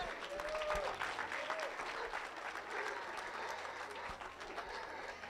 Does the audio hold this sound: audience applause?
yes